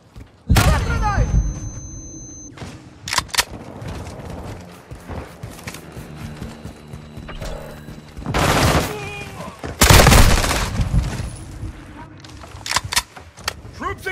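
Gunfire in Modern Warfare 2 during a Hardpoint match on Crown Raceway with a Kastov 762: sharp loud bursts crack out near the start and again around the middle, with scattered thumps and clatter between.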